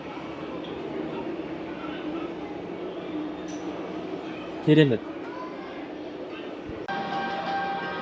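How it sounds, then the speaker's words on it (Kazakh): A tram approaches at the Tole Bi intersection in Wroclaw, a low rumbling rail drone beneath street ambience with a brief sharp squeal midway; a voice speaks briefly. "Мына жерде трамвай келе жатыр, Төле би қиылысында."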